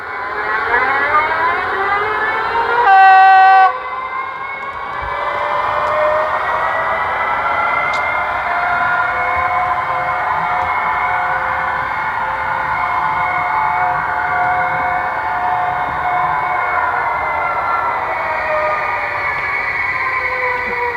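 A model Vectron locomotive pulls away while its sound decoder plays a long, wavering brake squeal, a loud sustained tonal screech with a short beep early on, heard close with no voices.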